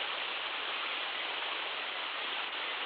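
Steady rain falling, a dense even hiss of water holding constant and fairly loud with no pauses and no voices.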